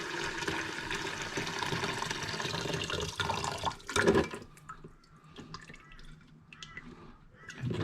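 Hot lemon mixture for limoncello is poured through a strainer, giving a continuous trickling, splashing pour that tapers into scattered drips.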